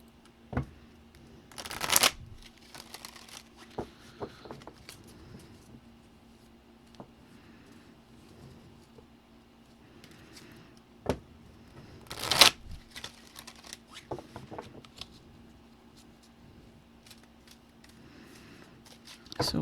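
Tarot cards are shuffled and handled in a few short bursts of riffling and rustling, with quiet handling noises in between and a faint steady hum underneath.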